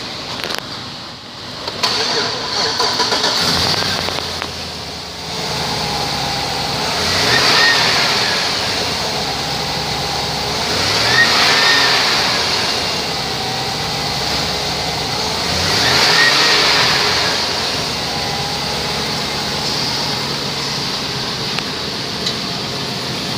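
A 2005 Chevrolet Tahoe with 171,616 miles runs at idle, a steady broadband engine drone with a few gentle swells in intensity, heard close up with no talking.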